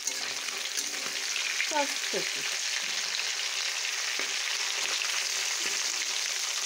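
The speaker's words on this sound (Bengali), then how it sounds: "চটচটিটা বসিয়ে দিয়েছি, এবার মাছগুলো দিয়ে দেবো" Small fish sizzling and spitting in hot oil in a pan, a steady, close frying hiss with a few brief stirring scrapes.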